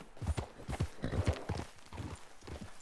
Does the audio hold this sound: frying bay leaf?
no